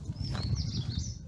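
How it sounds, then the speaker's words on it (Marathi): Birds chirp in the early morning along a hillside trail near a village, giving a few thin, faint high calls over a steady low outdoor rumble. "पक्ष्यांची चिवचिवाट चालू आहे सकाळी सकाळी."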